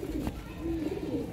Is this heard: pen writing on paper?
no